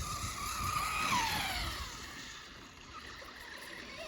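Traxxas Slash 4x4 VXL RC car sliding wide on a packed snow track, a brief whining tire skid and motor rise heard at a distance that fades into faint hiss.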